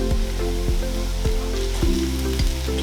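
Chicken drumsticks for Kenyan masala chicken sizzle loudly as they go into a pan of cooked onion, a steady close frying hiss with a few regular dull knocks and a humming tone underneath.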